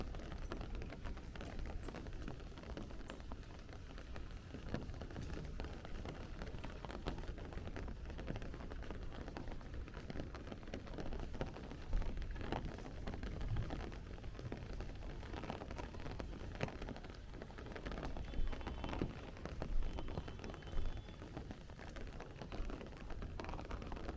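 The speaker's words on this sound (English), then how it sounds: "Sounds like the rain is starting to pick up a little bit." Steady rain patters on a city street in Bensonhurst, Brooklyn, a soft continuous wash of drops on hard surfaces with faint distant rumbles underneath.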